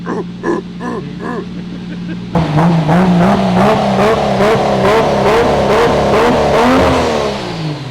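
A Nissan R34 Skyline with a swapped RB30DET engine and 4-inch exhaust idles with a burbling exhaust, then revs hard and holds a loud, throaty roar with rhythmic pulses before easing off.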